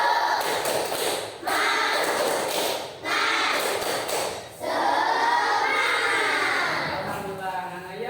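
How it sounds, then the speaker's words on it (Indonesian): A class of primary schoolchildren does a rhythmic spirit clap in a classroom, bursts of hand claps mixed with loud chanting voices, fairly close and filling the room. "Tepuk semangat."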